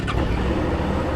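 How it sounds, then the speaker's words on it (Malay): A 2021 Suzuki SV650 V-twin motorcycle with 7,000 miles idles steadily after starting, a continuous low engine rumble at close range with no voices. "kita start bagi korang dengar"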